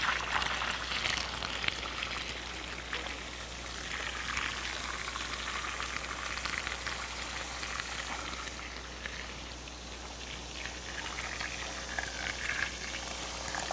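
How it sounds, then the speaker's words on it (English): Water pours steadily onto crushed grain in a home-brew beer mash tun, giving a continuous close, bubbling rush at even loudness with no talking. "All right, we're going to add our water"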